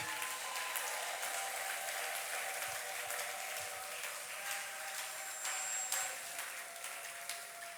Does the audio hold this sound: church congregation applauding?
yes